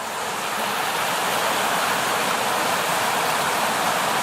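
Steady, continuous rush of creek water flowing over rocks, close and even throughout with no voices.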